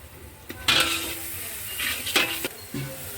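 Garlic paste frying in a pan, a soft sizzle punctuated by a few clinks and scrapes of a spatula against the metal, close by.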